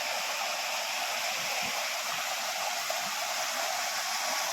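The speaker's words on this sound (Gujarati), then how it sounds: "રસ્તામાં સરસ મજાનું નાનું એવું ઝરણું પણ આવ્યું છે" A small stream of clear water flows alongside a forest road near a check dam, giving an even, unbroken rushing hiss that stays close and constant throughout.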